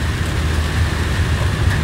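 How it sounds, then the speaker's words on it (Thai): Steady rain falls loud and close, a dense, even hiss with a low rumble that continues unbroken throughout. "ฝนตกด้วย"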